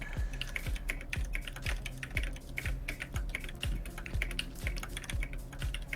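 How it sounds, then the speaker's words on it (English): Typing on a mechanical computer keyboard during a game session. Rapid, close, crisp key clicks in a steady uneven rhythm run through the whole stretch, with no talking. "hearing my keyboard sounds"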